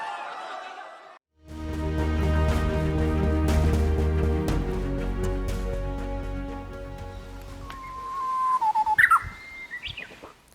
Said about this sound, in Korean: 휘파람새가 영롱한 휘파람을 불어댑니다.